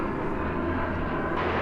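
An airliner turning on runway 18 left at DFW Airport, a continuous loud jet roar with a low engine drone, steady through the moment with no speech.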